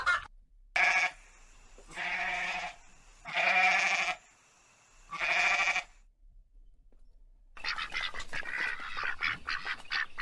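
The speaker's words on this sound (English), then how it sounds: "Sheep." Sheep bleat loudly in four separate wavering calls, close by and spaced a second or so apart, followed by a noisier, rustling stretch of farm animal sound.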